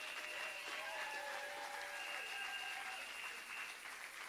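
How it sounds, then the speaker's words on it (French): An audience in a church gathering applauds steadily for a mother, a dense, even wash of clapping that holds throughout at a moderate distance. "Merci, on acclame pour maman."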